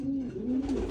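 A racing pigeon gives one short, close, throaty coo that rises and falls over about a second, with nothing else heard.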